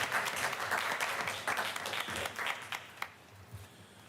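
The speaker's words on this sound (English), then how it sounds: "Let's give Mr. Yannick a big round of applause." An audience at a board meeting applauds for Mr. Yannick, dense clapping strongest at first and thinning toward the end with a few louder individual claps.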